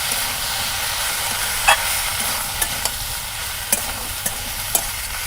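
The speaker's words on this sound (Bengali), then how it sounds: "দিয়ে আর 1 থেকে 2 মিনিট এটা ভালোভাবে কষাই করব।" Parboiled banana sautéed in a curry pan, a steady sizzling hiss with several sharp clicks of a spoon stirring against the pan, alone without talk.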